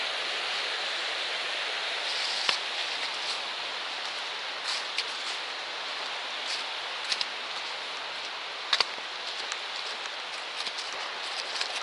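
Creek water rushes steadily beside a ruined former settlement along the Appalachian Trail, a continuous bright hiss of flowing water with a few faint clicks, close and loud, with no voices.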